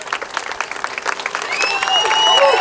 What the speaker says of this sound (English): Let's everyone give Grant a round of applause.